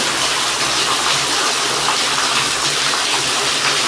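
Heavy rain pouring down outside a rented house during a thunderstorm, a loud, continuous, even roar of water with no pauses.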